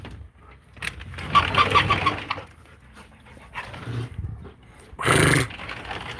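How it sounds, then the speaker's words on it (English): Several dogs growling, panting and barking nearby in bursts, with one sharp loud bark near the end and some bird sounds mixed in. "And the dogs."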